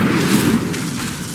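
Incendio fire spell cast in Hogwarts Legacy, a steady roaring burst of flame that fills the short moment at even loudness, with no talking over it.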